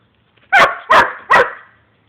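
A young dachshund, about six or seven months old, barks three times outdoors in quick succession, each bark sharp, close and loud, with no talking.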